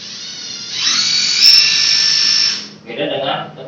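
A Makita DTW300 cordless impact wrench whirs as its variable-speed trigger is squeezed, giving a high motor whine that holds for over a second and then cuts off, followed by a short whir.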